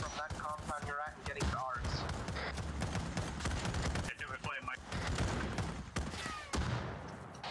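Video game firefight with gunfire and a frag grenade, dense rapid shots and bursts filling the mix alongside shouted radio-style voices, continuous and loud throughout.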